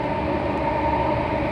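An SMRT C830 metro train runs between Mountbatten and Promenade, heard from inside as a steady, fairly loud rumble and hum of wheels and motors with no talk.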